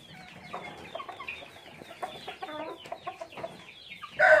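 Bangkok fighting chickens cluck in short, irregular bursts close by on a chicken farm, with a louder squawk at the end.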